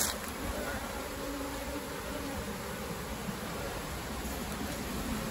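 Honeybees swarming at an opened beehive during hive management for honey supers: a dense, continuous buzzing drone from many bees close by, steady and loud throughout with no talk.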